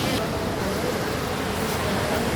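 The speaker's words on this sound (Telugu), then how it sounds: "ఫుల్గా వాటర్ పడుతుంది" A loud, unbroken roar of water pouring down at a lift irrigation outfall, heard up close as a dense rushing wash.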